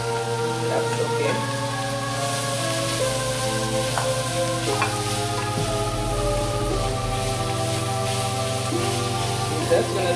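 Dasheen leaves sweating in a pot for a breadfruit oildown with salted codfish, giving a steady close sizzle with occasional stirring clinks, while music-like tones run underneath throughout.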